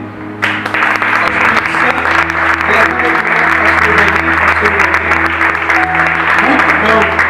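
Sustained applause from a large audience, steady and dense throughout, with a low hum underneath and no speech.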